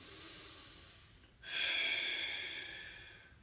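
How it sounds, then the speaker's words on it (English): A single deep, audible inhale through the nose during a total-body mobility workout, rising sharply after a quieter stretch and holding steadily before fading, close and clear with no talking. "Breathe in."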